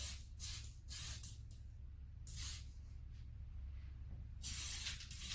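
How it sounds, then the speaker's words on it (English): An aerosol can hisses in several short and longer spray bursts, with pauses between them, close and fairly quiet. "And I'm gonna spray this. It's almost like graffiti spray paint."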